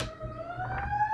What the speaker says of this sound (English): As the alarm's going off.